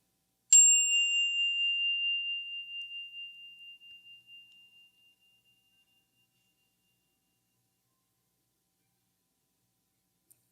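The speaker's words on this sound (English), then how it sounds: "We'll follow up with a second chime and then a third" A single bright chime strikes once, then rings on and fades away slowly over several seconds, leaving silence.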